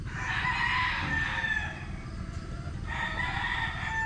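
Chickens and pullets on a farm range area cluck and call in two bursts of fowl chatter, with a quieter gap between them over a low background rumble.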